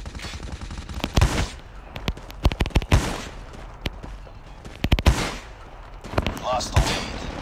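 Pistol gunfire in a video game pops out in quick bursts and scattered single shots, sharp and loud, separated by brief lulls of background game noise.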